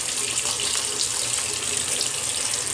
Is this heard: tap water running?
yes